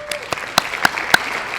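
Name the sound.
applause for UHNM and the NHS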